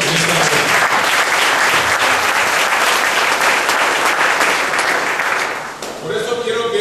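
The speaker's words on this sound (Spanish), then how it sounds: "Aplauda al Señor en esta mañana." A church congregation claps loudly and continuously during a Spanish-language service, a dense wash of applause that tapers off near the end.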